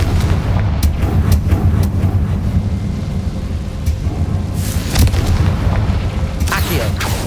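Confringo explosive spell blasts in Hogwarts Legacy, with several sharp booming bursts scattered through a dense, loud rumbling battle din.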